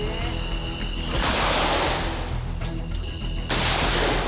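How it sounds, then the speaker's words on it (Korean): Two loud gunshots, fired to scare off water deer near rice fields, boom a couple of seconds apart, each followed by a long, rumbling echo that fills the quiet, foggy outdoor air. "총소리로 고라니들에게 경고의 메시지를 보내는데요."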